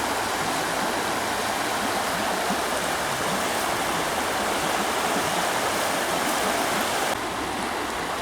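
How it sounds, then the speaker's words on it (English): Water pouring over a small weir on the Dorset Stour river, a steady broadband rushing and splashing heard close and unbroken throughout. "There's a little fall here,"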